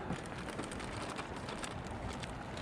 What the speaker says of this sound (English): Nice 3-second rain there.